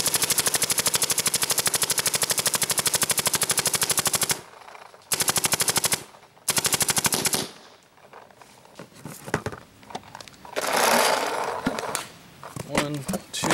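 A Lurker paintball marker running low on gas fires a rapid, loud string of shots that stutters and breaks off, followed by scattered quieter pops and a voice talking.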